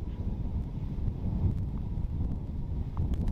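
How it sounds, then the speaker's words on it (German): Gusting wind blows near a small wind turbine on a slender 34-metre tower, a steady low rumbling buffet against the microphone with faint rustling and no talking. "Der Wind ist ein bisschen aufgefrischt"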